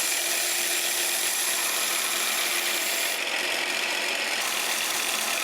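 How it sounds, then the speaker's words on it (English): A forged steel knife blade being ground on a power grinder, a steady loud broadband grinding hiss running unbroken throughout with no talk. "we're gonna grind it and get everything nice and shiny again"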